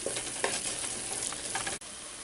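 Spices fry in a hot pan for black Indian-style lentils, giving a steady dense sizzle with occasional stirring scrapes and one brief dip near the end.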